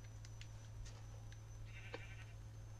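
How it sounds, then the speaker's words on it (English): Sheep bleating in a video game, a few short faint bleats over a steady low background hum, with no talk. "I just love sheep! This is sheep, Kelan!"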